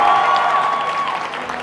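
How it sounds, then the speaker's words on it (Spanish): A short burst of studio audience applause and crowd noise for a contestant on a TV talent show, steady and fairly dense with a held tone running underneath. "Aplausos para Cristian Flores Pavarotti"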